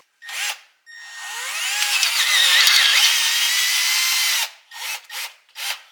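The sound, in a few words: drill drilling out threads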